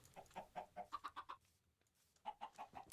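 Minecraft chickens cluck in a quick series of short, bright, evenly spaced clucks, a brief pause, then another run of clucks, fairly close with no talking.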